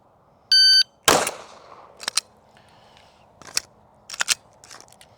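Pistol shots during grip drills at a shooting range: a shot timer beep, then a loud close report, followed by two sharp pairs and a further pair of quick shots spaced over several seconds.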